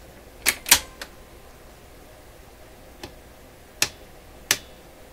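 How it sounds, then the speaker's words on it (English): Sharp metallic snaps from the turntable mechanism of an Electrohome Chippendale console: two close together, then three more spaced out over a quiet mechanical background. "see this, the metally snap sound?"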